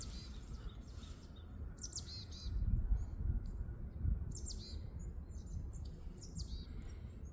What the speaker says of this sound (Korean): 새들이 이제 여러 마리가 지금 노리고 있습니다